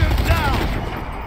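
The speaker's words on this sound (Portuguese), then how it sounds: "Já sei porque é que isto nos dá esta machine gun." Rapid machine gun fire in the zombie shooter Zombie Army 4, a dense continuous burst that is loud and close, blending with game noise throughout.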